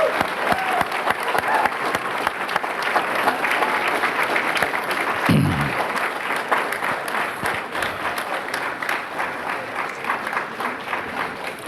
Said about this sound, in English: I think these young people deserve another big round of applause